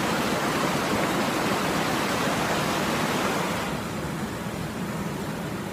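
River water rushes steadily as a broad, constant roar that softens slightly toward the end, with no other sounds standing out.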